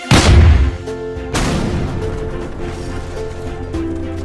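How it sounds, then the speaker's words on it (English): A cannon fires twice in a Christmas special, each shot a loud, deep boom with a long rumbling decay. The second blast lands about a second after the first, and no voices are heard. "Can one of you conjure up a cannon?"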